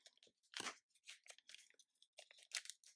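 Close, crisp snips and crunching tears of stiff plastic packaging, coming in short irregular bursts with brief quiet gaps between them.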